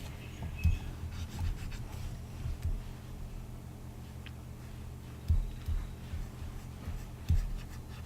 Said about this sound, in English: 2 Pomeranians, and you might hear the little toes clicking about as they walk around the house